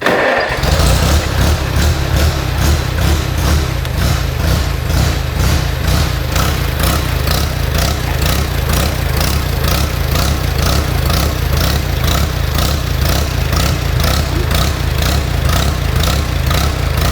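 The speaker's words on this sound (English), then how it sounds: "So I'm going to go ahead and start the tractor" A Farmall tractor engine cranks briefly and catches, then settles into a loud, steady idle with an even, throbbing rhythm that runs close and unbroken to the end.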